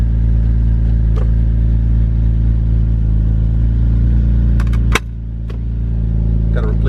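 A six-speed Infiniti G35 idles with a steady low drone throughout, broken by a sharp click and a brief dip near the end, while someone speaks over it.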